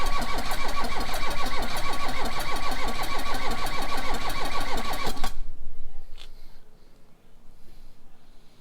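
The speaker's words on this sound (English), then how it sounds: "I'm now going to perform a compression test number 2" A car engine cranks during a cylinder compression test, a loud rapid starter chug held for about five seconds before it stops and leaves faint background noise.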